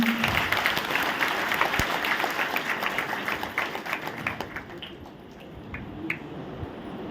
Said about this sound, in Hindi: तो अपने लिए जोरदार ताली बजाएं